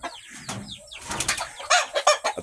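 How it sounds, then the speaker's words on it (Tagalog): Chickens and ducks on a backyard poultry range cluck and call in a series of short, close bursts, with some scratchy rustling and a brief flutter between calls. "sunod na ng sunod itong mga alaga nating manok, pati pato"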